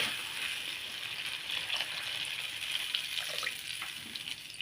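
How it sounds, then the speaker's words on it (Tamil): A tumbler of water is poured into gram flour chutney in a cooking pan, making a faint, steady gushing splash for several seconds with no one talking. "சேர்த்துட்டு ஒரு டம்ளர் தண்ணி ஊற்றிடலாம்"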